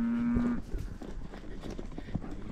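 A cow gives one clear, sustained moo at the start, then the herd fades into quieter outdoor shuffling and scattered faint noises.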